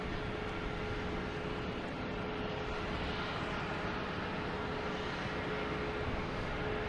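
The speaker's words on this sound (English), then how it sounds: "next taking off, we have a Delta heading to Jacksonville in E175" Delta Embraer E175 taking off from Boston Logan for Jacksonville, a steady low jet rumble with a constant engine tone, moderately distant and even throughout.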